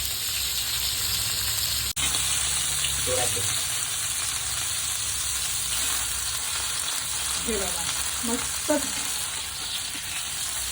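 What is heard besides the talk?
prawns frying crisp on a tawa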